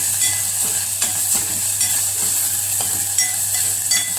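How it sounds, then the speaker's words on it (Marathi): Spices and turmeric sizzle and fry in a hot pan for Maharashtrian kadhi, a close, continuous crackling hiss broken by occasional scraping stirs. "आता हे सगळं व्यवस्थित भाजून घ्यायचं."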